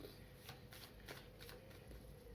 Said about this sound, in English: I'm going to shuffle the cards and see which 3 cards come out